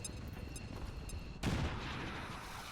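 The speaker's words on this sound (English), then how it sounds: "Frag grenade here." A frag grenade explodes in XCOM 2 Long War of the Chosen, one sudden loud blast about halfway through followed by a rumbling decay, after a quieter stretch of game ambience and music.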